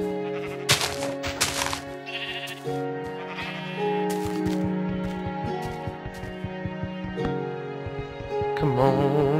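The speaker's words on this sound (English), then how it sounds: "What's all the sheep?" Sheep in the video game Minecraft bleat again and again in short, wavering calls that overlap, loud and close, over a busy game soundscape.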